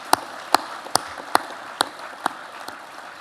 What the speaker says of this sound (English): but we'll still provide a round of applause.